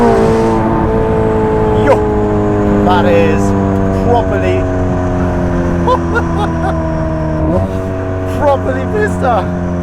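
A 770-horsepower Ferrari 488 Pista accelerating hard, the engine note rising steeply through the revs in loud, clear pulls with gear changes in between, while people talk over it.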